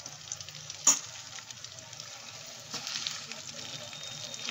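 Chicken leg pieces frying in a pan give a soft, steady sizzle with occasional scraping as they are stirred. One sharp clink comes early on.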